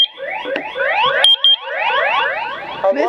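A household water leak alarm sensor shrieks with loud, rapid sweeping warble tones close by, sounding almost continuously with a couple of brief beeping breaks.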